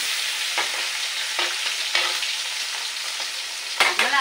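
Small puti ilish fish sizzle in hot oil in a wok, a steady crackling fry with occasional sharper bursts and stirring scrapes, close and clear with no talk.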